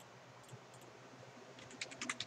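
Numbers being typed on a computer keyboard while entering elevation values in design software: faint, quiet key clicks that grow into a quicker burst of taps near the end.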